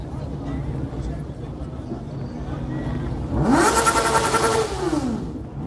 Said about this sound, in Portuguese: o cara quando compra uma moto e fica feliz, ele tira o escape e faz isso no meio da galera